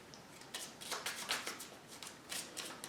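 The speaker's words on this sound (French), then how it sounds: "vous mélangez bien votre paquet de cartes" A small deck of cards from the Nemesis board game shuffled by hand, a series of quiet riffling bursts in an irregular rhythm, close and soft.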